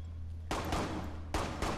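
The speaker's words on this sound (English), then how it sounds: "He shot me through the wall" Muffled gunfire coming through a wall in Rainbow Six Siege, two loud broadband bursts of rapid shots at close range, the second shorter, over a steady low hum.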